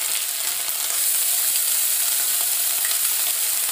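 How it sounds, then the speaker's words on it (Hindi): Ground onions sizzling in hot oil in a pan for dhaba-style dum aloo, a steady bright frying hiss close up with faint stirring scrapes. "पिसे हुए प्याज हमने डाल दिए हैं। अब इनको भून लें।"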